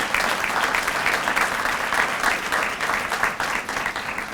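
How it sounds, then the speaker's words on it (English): A convocation audience at a university Martin Luther King event breaks into steady, dense applause, many hands clapping evenly throughout with a faint crowd murmur underneath. "If you would please stand so that we can give you a round of applause."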